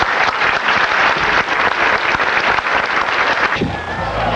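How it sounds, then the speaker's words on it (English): Thunderous audience applause at a 1995 MLM presentation in Eugene, Oregon, a loud, dense wash of clapping that holds steady and then thins out near the end. "The applause was thunderous."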